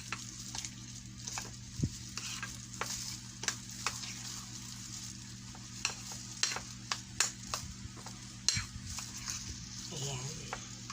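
Ingredients for baked salmon California maki are stirred together in a bowl, giving soft repeated scraping and tapping strokes, faint and close, with a few sharper knocks and brief talk.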